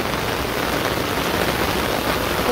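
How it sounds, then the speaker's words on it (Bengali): Light rain pattering steadily onto a pond, a dense, even hiss of drops close by with no voices. "পুকুরের উপরে কি সুন্দর টিপ টিপ করে বৃষ্টি পড়বে আনছে।"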